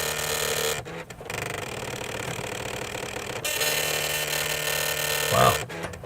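A printer grinds and whirs loudly through a long self-test print in a retro computer repair workshop, the mechanical drone broken by two brief pauses and a couple of clunks.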